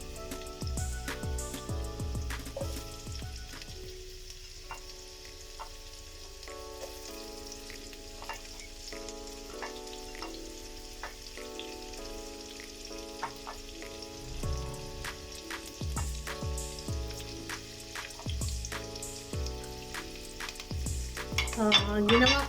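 Garlic browning and freshly added onion sauté in a pan for a creamy carbonara, giving a steady sizzle with occasional utensil clinks and stirring, set against background music.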